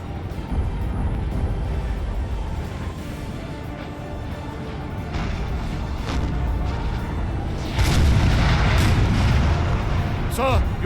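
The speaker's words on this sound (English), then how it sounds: "they're under fire from the artillery" Artillery fire during a Napoleon: Total War battle, a continuous rumble of distant cannon booms that grows louder toward the end, with someone talking over it.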